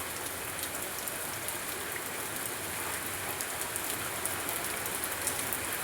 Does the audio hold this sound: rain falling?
yes